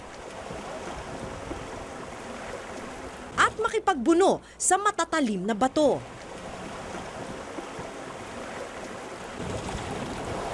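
A boat rides rushing river water on the way to Pagsanjan Falls, a steady close wash of churning water running throughout, with someone speaking briefly over it in the middle.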